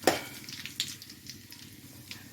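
Onions frying in a pan after mustard seeds, cumin, pepper and fenugreek have popped, with a loud clatter of a spoon against the pan at the start and a soft sizzle underneath.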